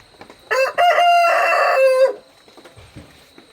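A native rooster crows once inside a chicken coop, a long, loud, clear call rising and held before breaking off, followed by quiet scratching and faint clucks.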